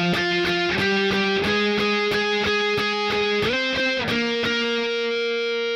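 An electric guitar with a distorted tone plays the opening bar of a song as steady rhythmic strummed power chords, shifting chord positions midway and ending on a ringing sustained chord, with no voice.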